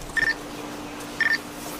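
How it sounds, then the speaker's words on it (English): Two short electronic telephone tones, each a brief ringing chirp about a second apart, from a phone call in a prank call, clear and close over a quiet background hum. "This is what it looked like for Shedeur taking that phone call."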